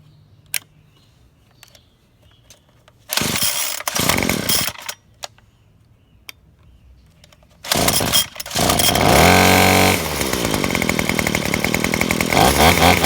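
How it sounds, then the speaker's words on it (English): A Craftsman WC210 25cc two-stroke string trimmer engine bursts to life in short loud revs, pauses, then roars again with rising and falling revs before settling into a steady high whine. "I always give it a couple good revs, and then I go on my way"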